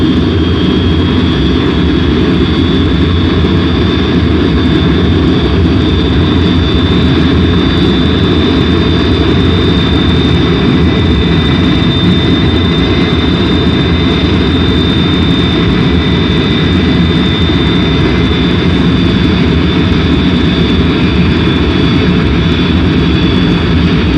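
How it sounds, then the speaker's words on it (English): Rhodesian Air Force jet bombers taxiing out, a loud, continuous jet engine roar with a sustained high whine, close and steady throughout. "The bombers taxied out that first morning"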